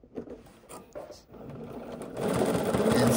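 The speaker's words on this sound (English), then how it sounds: "And I'm sewing all the way up until I'm even with my stitching here on this pocket flap." A sewing machine stitches along a pocket flap on Vinton pants, its motor whirring up to a steady run near the end after a few quiet handling sounds, with a voice talking in the opening moments.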